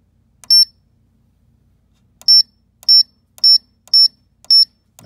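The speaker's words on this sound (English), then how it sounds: "After we hear the beep" Short, high electronic beeps from a Xentaur XDT dew point transmitter: one alone, then after a pause five more in a steady, evenly spaced series.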